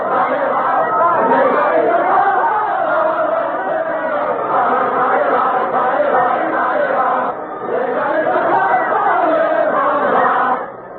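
A crowd in the streets of Paris sings revolutionary words set to an old French dance tune, a loud, continuous mass of voices filling the whole stretch with only a brief dip partway through.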